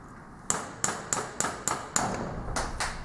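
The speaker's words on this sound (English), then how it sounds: "tap the bushing out." A hammer taps a bushing out of a Bosch 230/231 series truck starter motor held in a vise, giving eight sharp metallic knocks at a fairly even, quick rhythm, close and clear with no talk.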